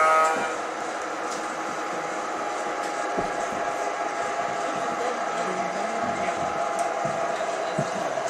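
Ma & Pa Railroad train at Red Lion, Pennsylvania, rolling along with a steady rumble and clatter of the cars, fairly loud and continuous, with a brief louder burst at the start.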